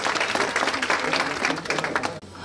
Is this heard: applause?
yes